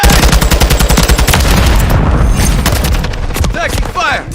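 Loud, close automatic gunfire in a video game rattles in rapid continuous bursts, thinning out toward the end with scattered ringing tones.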